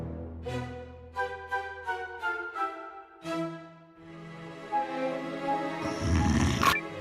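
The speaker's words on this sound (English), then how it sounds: "Hark! What is all that raucous snoring?" A sleeping wolf snores raucously in the video game Eiyuden Chronicle: Hundred Heroes, with several drawn-out, rumbling breaths in slow rhythm over soft game music, followed by a brief louder burst near the end.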